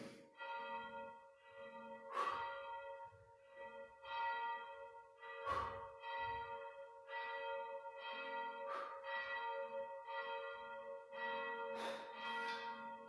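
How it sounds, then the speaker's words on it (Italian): Church bells strike six o'clock in a slow series of resonant strokes with sustained ringing tones between them, heard at moderate distance and without voices. "Non so se sentite le campane."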